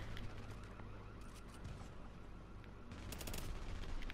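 Rapid gunfire in the video game The Division, a dense continuous burst of overlapping shots with no gaps, steady and fairly loud throughout and swelling slightly near the end.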